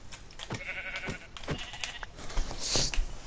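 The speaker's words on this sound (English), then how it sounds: "Oh, I found a sheep." Sheep bleating in the video game Minecraft: a few short nasal bleats spaced across a couple of seconds, fairly close and clear, with no talking.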